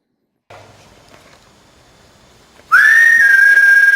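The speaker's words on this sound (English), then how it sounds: "With this piece, I'm whistling to try and get a response to see if something will whistle back" A person whistles a single sustained, slightly rising note, loud and close, after a quiet stretch of faint outdoor rustling at an old fort.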